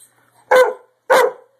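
A big dog gives two loud, sharp barks about half a second apart, close by and with nothing else around them.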